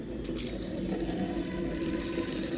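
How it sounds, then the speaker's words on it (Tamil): Water pours steadily onto a hibiscus plant on a rooftop terrace, making a continuous splashing, gushing rush that stays fairly close and even throughout. "அதுக்கு தான் 2 பேரும் வந்து தண்ணி ஊற்றிட்டு இருக்காங்க."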